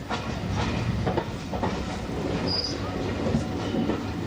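Class 205 DEMU diesel multiple unit train riding the line from Hastings to Ashford in 1989, a steady loud rumble of engine and wheels on rails heard from onboard with rhythmic rail joint clicks and a brief high squeal.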